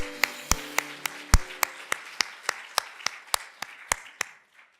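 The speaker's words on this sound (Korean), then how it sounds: "이럴 때는 때로 주님을 우리 박수로 찬양해도 좋습니다" Church congregation clapping in praise during a worship service: a run of about fifteen sharp, evenly paced claps, fairly close and moderately loud, with a faint tonal hum under the opening beats and no speech.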